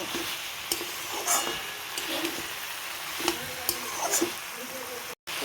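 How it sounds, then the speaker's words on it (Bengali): Potatoes, pointed gourd and lentil dumplings (bori) being sautéed in a pan, with a steady low sizzle and occasional scraping stirs of a spatula, fairly quiet and close, no talking. "এবারে আলু, পটল আর বড়িগুলোকে ভালো করে কষিয়ে নেব।"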